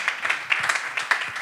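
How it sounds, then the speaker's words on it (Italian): An audience at an Italian ethnomusicology talk claps, giving a light, uneven patter of individual hand claps with a few sharper slaps, moderately loud and without voices over it. "Fatevi un applauso."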